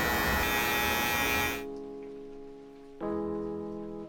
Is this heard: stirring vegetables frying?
no